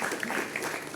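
Audience applause at a teacher, parent and student meeting in a government higher secondary school: a brief, steady patter of clapping from a crowd.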